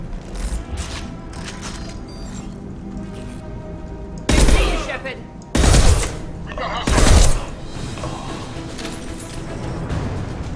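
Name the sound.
gunfire in the video game Mass Effect 2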